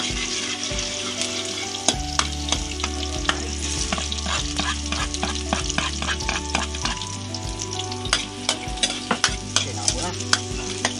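Palagitik ginataan is stirred in a cooking pot outdoors, with repeated scraping and clacking strokes over a bubbling simmer and a low hum underneath.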